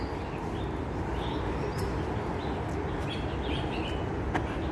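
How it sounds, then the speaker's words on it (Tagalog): Faint, scattered bird chirps drift over a steady rushing background noise in an old Hong Kong cemetery, with no voices. "Kung naririnig niyo ay yung mga huni ng ibon."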